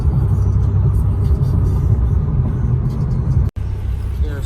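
An Infiniti Q50 driving through city streets at night, heard from inside the cabin as a steady low engine and road rumble, with a brief dropout near the end.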